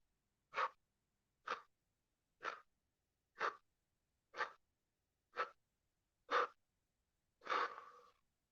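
Breathing exercise in a gentle yoga class: eight evenly spaced, close breaths about a second apart, each a short airy rush. The last one is longer and fuller, with no talking in between.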